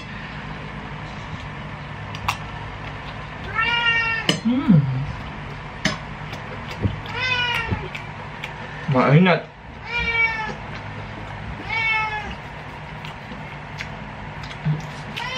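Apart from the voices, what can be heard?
cat meowing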